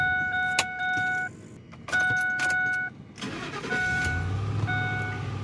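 A car with a repaired loose battery post: a repeating electronic chime sounds in two bursts, then the engine cranks, catches and settles into a steady idle close by.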